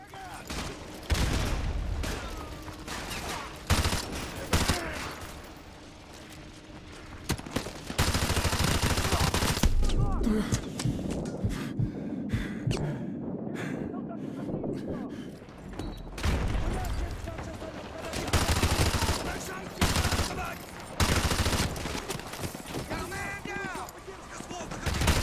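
Call of Duty Modern Warfare 2 Remastered campaign firefight: loud bursts of automatic gunfire and single shots recur throughout, mixed with explosions and game sounds, with a player talking over parts of it.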